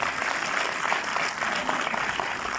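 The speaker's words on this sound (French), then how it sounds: "Et alors ça s'applaudit très fort." Dense, continuous audience applause fills a hall at a film premiere screening in Orléans. Many hands clap at an even, fairly loud level throughout, with no voices standing out.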